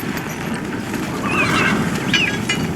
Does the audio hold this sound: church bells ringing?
no